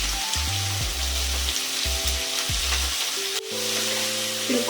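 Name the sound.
onions frying in a pan with salt and turmeric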